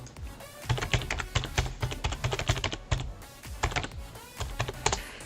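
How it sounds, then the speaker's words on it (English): Rapid, uneven typing on a computer keyboard, with clear close key clicks coming in bursts and short pauses, and no one speaking. "Having the hardest time typing here on another window."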